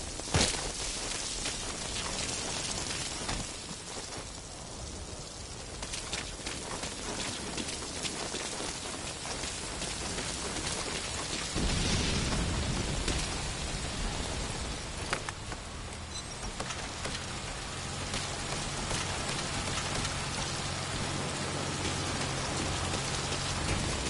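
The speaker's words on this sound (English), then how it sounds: "That rain just won't let up." Steady heavy rain falling in the stealth video game Metal Gear Solid, near a prison, a dense continuous hiss and patter that fills the whole stretch without any talking.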